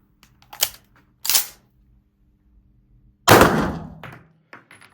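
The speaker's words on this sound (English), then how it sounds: "I fired 3 rounds." Three sharp shots fired one after another at an indoor range through a chronograph, the first two crisp and brief, the third louder with a longer echoing tail, then small clatters; no talk.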